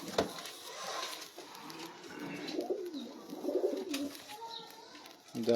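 Sialkoti rooftop pigeons coo softly and continuously in a busy setting, the low calls mixed with faint murmuring voices and rustling.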